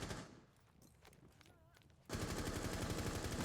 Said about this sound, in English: Another gunfight ensues.